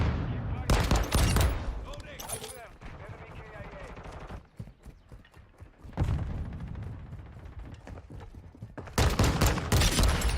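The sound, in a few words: pistol gunfire in the video game Call of Duty Modern Warfare 2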